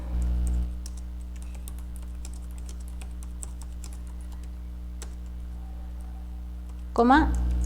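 Steady typing on a computer keyboard while entering a message into a program, with soft clicks throughout and one louder keystroke like a final Enter near the end, under a low background hum.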